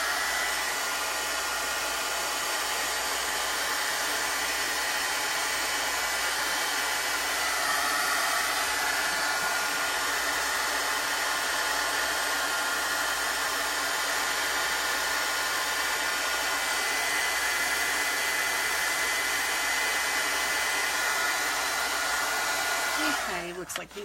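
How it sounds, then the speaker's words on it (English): A heat tool drying a wet chalk-painted gingerbread man craft blows with a steady, loud whooshing roar that runs unbroken for about 24 seconds and then cuts off abruptly at the end. "I'm going to put a heat tool on him"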